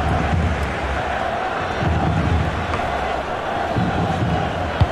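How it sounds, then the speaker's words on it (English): A stadium crowd in the FIFA 23 video game, at a women's World Cup semi-final between Sweden and Spain, keeps up a steady, broad roar with swelling murmurs throughout. "she's being egged on by the crowd"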